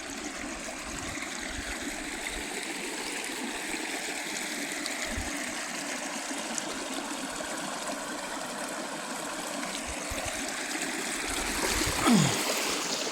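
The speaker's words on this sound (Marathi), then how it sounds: "वाडा अजून फुल भरून वाहतोय" Water rushes steadily through a full irrigation channel on a farm, a continuous outdoor flow with a faint engine hum and a brief rise near the end.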